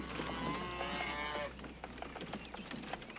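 Cattle low and moo repeatedly on a ranch while a fence is being built to hold the herd, several overlapping calls near and loud in the first half, then fainter scattered lows with rustling.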